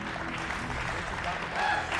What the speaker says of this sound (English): Get an applause for standing up